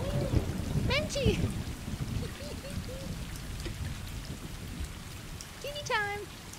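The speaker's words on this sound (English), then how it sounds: "It's raining. Menchie, look, it's raining." Rain from the video game Stray hisses steadily in the background while a streamer speaks over it and a cat meows several times.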